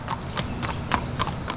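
Horses walking toward an equine medical center at a racetrack barn area, their hooves clip-clopping in a steady, even rhythm on a hard surface at moderate distance, with no one speaking.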